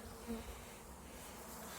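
Honey bees buzz in a low, steady drone around an opened hive, a quiet swarm hum with no talking.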